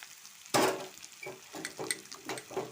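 Potatoes are dropped into a frying spice mix for a prawn and taro stolon dish, bursting into a sharp sizzle followed by several rhythmic scraping stirs against the pan, close and without speech.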